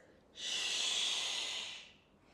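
A single long inhale during a Pilates exercise, close and airy. It begins after a short silence, holds a steady hiss for over a second, then fades out.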